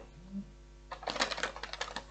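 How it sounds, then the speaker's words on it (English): A deck of Kipper oracle cards shuffled close by, a short burst of quick riffling clicks after a brief faint sound at the start. "One more shuffle."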